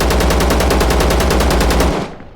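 Automatic rifle with a drum magazine fires in ZERO Sievert at about 600 rounds per minute, a steady loud burst of rapid, evenly spaced shots that stops abruptly near the end, leaving a short fading tail.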